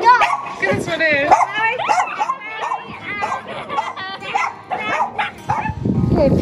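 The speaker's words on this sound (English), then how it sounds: "Look at these dogs." Dogs on the Greek island of Patmos bark and yip in short bursts, mixed in with steady close conversation from several people.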